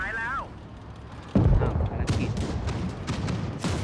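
Tank cannon shot in World of Tanks, a sudden loud boom followed by rumbling battle noise and sharp cracks of further impacts. A voice is heard briefly at the start.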